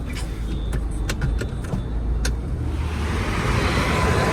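A car rolls into a parking spot inside a white line outside a casino in Goa, a close, steady engine and road rumble with a few sharp clicks and knocks early on, then a broad hiss as it settles.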